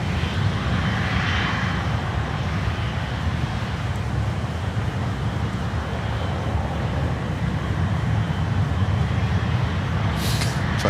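Jet engines of a China Airlines Cargo Boeing 777 roar steadily as a broad, loud rumble with a whooshing airy hiss, holding constant throughout with no talk over it.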